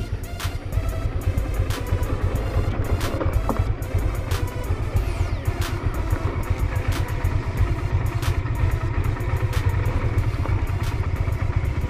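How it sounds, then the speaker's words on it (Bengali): A motorcycle engine labours on a rough, steep road, its revving drone steady under repeated clattering knocks and rattles from the bike bouncing over uneven ground, fairly close, with no talk. "গাড়ি গ্রিপ পাইতেছে না এদিকে"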